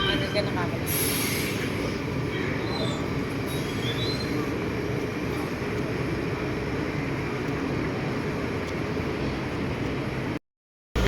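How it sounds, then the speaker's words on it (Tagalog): A train rumbles steadily and loudly nearby, with brief wheel squeals near the start, before cutting off abruptly at the end. "We will wait for the train pala."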